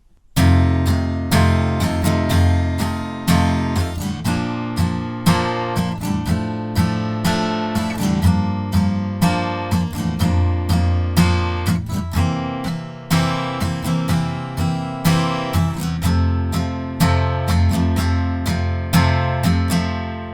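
Strummed guitar chords of the chorus, played without capo or barre chords, steady rhythmic strumming throughout, loud and close with no talking.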